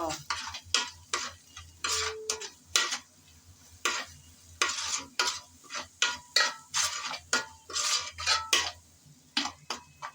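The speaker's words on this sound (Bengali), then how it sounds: "সব একসাথে ভালো করে একটু নেড়ে চেড়ে কষিয়ে নেব" Spices and salt for a cabbage dish are stirred and fried in a pan, with a steady run of scraping and clinking spatula strokes in a loose rhythm over a low sizzle; no one speaks.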